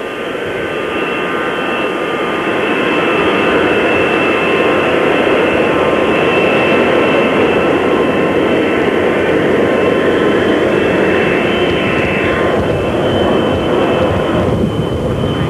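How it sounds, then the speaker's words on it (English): A commercial jet departing Dallas Love Field in November 1963 produces a loud, continuous broadband roar that holds steady for the whole stretch with no pauses, dominating the scene with no voices heard. "the noise you hear in the background is that of a commercial jet going out to take"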